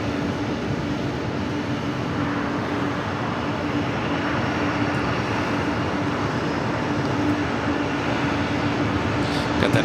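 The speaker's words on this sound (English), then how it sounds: "Got that Air Canada A330 now taking off." Steady, broad roar of an Air Canada Airbus A330 airliner taking off at Los Angeles LAX, a continuous engine rumble with a low hum that holds at an even level throughout, heard from a distance with no voices.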